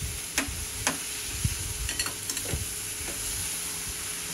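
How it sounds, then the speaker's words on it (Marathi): Cluster beans and tilkut sesame powder are stir-fried in a pan. A soft steady sizzle runs throughout, and light scraping stirs of a spoon come every half second or so, close and quiet, with no talk. "आणि छान परतून घेऊया."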